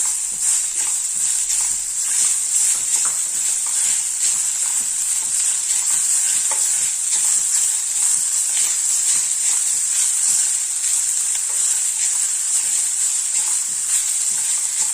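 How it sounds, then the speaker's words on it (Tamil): Coconut rice stirred in a pan over a low flame, a soft continuous sizzle with faint scraping of the spoon running steadily and close throughout. "சிம்லேயே வச்சுக்கிட்டு கலருங்க அப்போ தான் வந்து பிடிக்காமல் ஒட்டாமல் வரும்"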